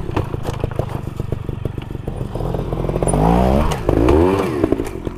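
A trials motorcycle ridden over obstacles revs hard in bursts, its engine climbing and falling with rattling clatter and scraping as it climbs, close and loud.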